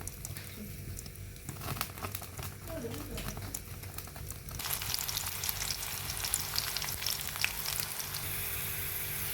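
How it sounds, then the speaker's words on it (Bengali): Chopped onion, garlic and green chilli fry in hot oil for lentil dal with Malabar spinach, a steady close sizzle that grows brighter and busier midway, with faint crackle throughout. "পেঁয়াজটা যখন এরকম ভাজা ভাজা হয়ে যাবে"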